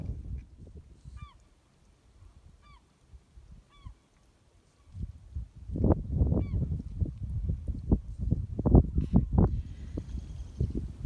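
Herring gulls call near a rocky intertidal shore, giving a few short, spaced cries early on, then a louder, busier stretch of shoreline noise follows.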